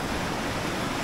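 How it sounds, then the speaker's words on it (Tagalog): Ocean waves at the shore, heard while people try to get out past the breakers to go fishing: a brief, loud, continuous rush of surf and hiss close by. "Pero ang challenge, kailangan naming malampasan ang mga alon na to."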